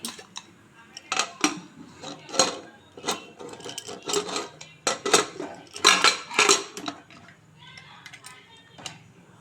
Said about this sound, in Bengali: প্রেসার কুকারের ঢাকনাটা লাগিয়ে দেবো।